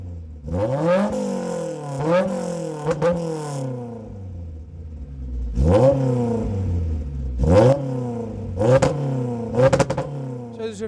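A Honda S2000 engine revs repeatedly, each blip rising sharply in pitch then falling back to idle, several in a row with a brief pause between bursts.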